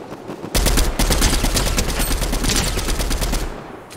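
Rapid automatic gunfire in a video game, a dense loud burst of shots lasting about three seconds before tapering off.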